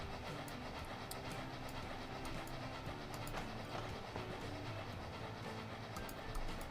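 Trains running in the railway simulation game Transport Fever 2, a continuous low rumble with faint rhythmic clicking of wheels, steady and fairly quiet with no talk.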